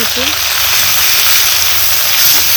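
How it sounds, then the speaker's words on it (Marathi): Chutney spice powder roasts in hot oil with bloomed cumin in a village-style coriander bhaji pan, producing a loud, constant close hiss and sizzle that runs steadily without pause. "आता ह्याच्यामध्ये ही चटणी घालायची चटणी आपल्याला चांगली अशी भाजून घ्यायची"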